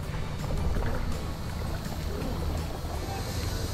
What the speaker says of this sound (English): We're going on a canoe ride now.